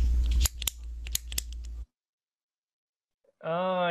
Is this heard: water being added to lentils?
no